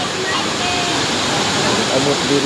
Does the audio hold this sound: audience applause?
no